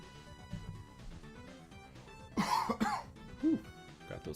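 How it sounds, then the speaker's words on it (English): A few close coughs and throat clearing over quiet background music while a Bit Heroes Quest game plays, one burst of two to three coughs followed by another single cough. "Got those coughs going."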